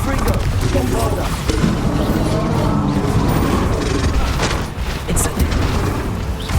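Dense, continuous magical combat in Hogwarts Legacy with Confringo and Bombarda spell blasts, loud crashing booms and bursts layered over a roaring battle bed, with voices shouting incantations throughout.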